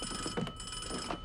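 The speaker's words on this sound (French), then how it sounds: "Téléphone." A telephone rings aboard a lake boat in a film scene, with a thin, steady electronic ringing tone running underneath faint room noise.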